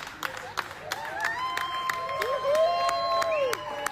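A crowd cheers and applauds a returning fighter's hero's welcome, with scattered sharp claps and raised voices building steadily over a lively background.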